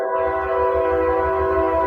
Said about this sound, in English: That train loud.